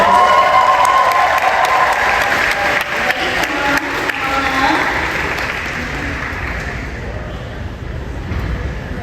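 A crowd claps steadily at a Sonic Expo 2024 cosplay competition, a dense, even wash of applause that holds for several seconds before slowly thinning out.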